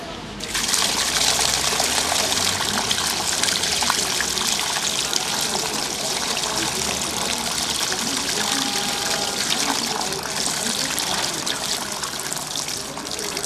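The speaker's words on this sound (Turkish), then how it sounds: "makinanın pis suyunu boşaltmak için makinanın ön tarafında bulunan pis su hortumu yerinden çıkartılarak herhangi bir gidere boşaltılır" Dirty water draining from the hose of a Powerwash CB461 floor scrubber into a drain, a steady close splashing trickle that runs continuously with someone talking over it.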